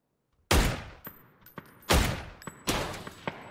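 Video game shooter gunfire: three loud, sharp shots about a second and a half apart, each with a decaying tail, plus fainter clicks and thuds between them.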